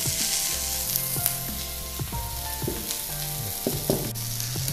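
Food pan-frying until the surface browns, a steady broad sizzle running throughout with occasional stirring or scraping clinks, while music plays loudly over it.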